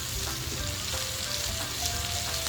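Ginger sizzles steadily in hot oil in a pan as a coconut-milk crab dish is started, a dense, continuous frying crackle, close and loud, with no talk over it.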